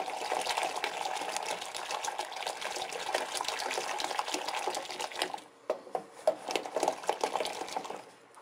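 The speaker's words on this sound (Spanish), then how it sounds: "la espuma la logras batiendo con el molinillo" A wooden molinillo whisks hot Colombian chocolate, making a steady frothy sloshing and rattling churn that turns choppier and more intermittent near the end, fairly quiet and alone.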